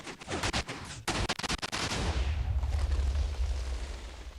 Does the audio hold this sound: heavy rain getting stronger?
no